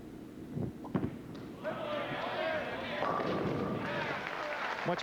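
Bowling ball striking pins at a professional PBA tournament, with a rolling rumble and a sharp clattering crash of pins while a commentator talks over it.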